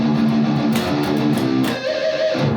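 A short, heavily distorted electric guitar riff from a song chugs on the low open string with palm-muted accents, loud and close for under three seconds, with no talk.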